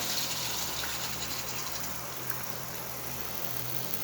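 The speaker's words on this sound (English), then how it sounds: "Add water as required." Water gushes steadily into a pan of simmering tomato gravy with potatoes, a continuous soft pouring hiss that fades a little toward the end, with no voices.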